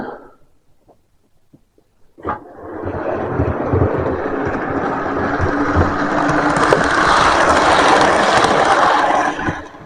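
Model railway train starting after near silence, then a loud, steady mechanical whirr and rattle that swells slowly as it strains to gain power, close by with no talk.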